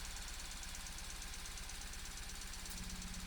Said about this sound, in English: This thing is knocking. I'm worried. I'm worried I blew this engine